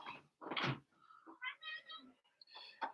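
Several short meows and chirps from a cat nearby in quick succession. A voice may be imitating a cat.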